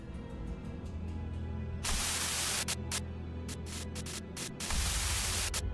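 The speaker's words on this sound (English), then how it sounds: "A sudden buzz of white noise breaks through the truck's silence." Loud radio static in a video game crackles and hisses inside a silent truck, starting as faint ticking and then breaking into harsh white-noise bursts that cut in and out before a long steady blast.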